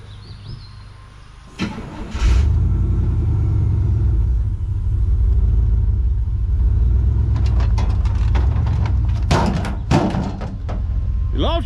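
A 1968 Ford F250 pickup with a 360 FE V8 rumbles to life and holds a loud, deep idle as it drives out. Clunks and door sounds come later, and people talk over the engine.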